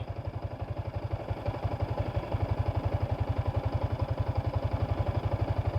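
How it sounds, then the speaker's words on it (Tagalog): A Yamaha Sniper 155R motorcycle engine at about 8,200 km idles steadily with a fast, even low thumping pulse and a faint mechanical clatter, close and continuous throughout. "so ito yung tunog ng makina natin ngayon"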